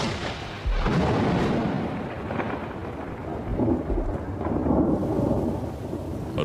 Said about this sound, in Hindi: आसमान में काले बादल दिखाई देने लगे हैं। बरसात आ चुकी है।